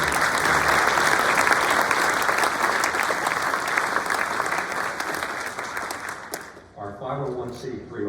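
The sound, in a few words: applause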